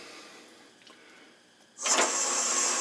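After a quiet, faintly humming start, a Shopsmith Power Pro with a slack belt abruptly picks up speed toward 500 RPM, then settles into a loud, sustained whirring whine.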